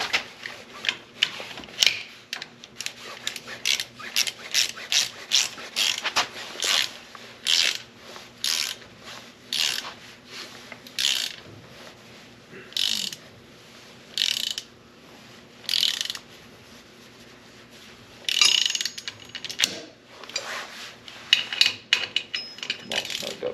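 A hand ratchet clicks in repeated bursts while tightening bolts during an engine build, with quick pawl chatter separated by short pauses over a faint workshop hum, close and fairly loud.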